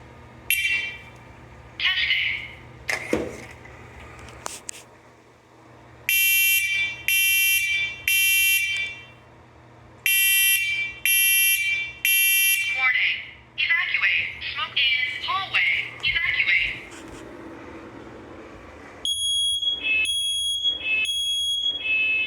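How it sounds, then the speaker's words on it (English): A newly installed smoke alarm near a game room sounds during a test with loud repeated high electronic beeps in bursts. People talk between the bursts and a second alarm chirps at the end. "We'll do a little smoke test with it as well."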